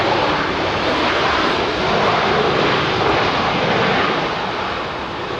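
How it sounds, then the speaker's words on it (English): Loud, steady roar of a Swiss jet's CFM56 engines in heavy thrust reverse as it lands on runway 09L at London Heathrow, a broad sustained rumble that eases slightly toward the end, with no voices. "CFM 56 is chucking out a load of reverser"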